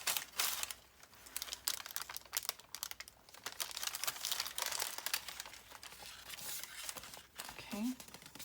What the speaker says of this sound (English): move this paper out now